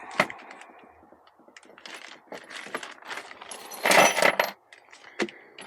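Bag of 10 millimeter bolts being handled during a Jeep camper conversion, with sharp metallic clinks and jangles in irregular bursts close by, a louder rattling cluster near the end, no talk.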